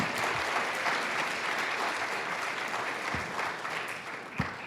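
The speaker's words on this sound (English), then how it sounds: "Please give them a round of applause." An audience at a senate candidate forum applauds with steady, moderately distant clapping that holds for several seconds, then thins out.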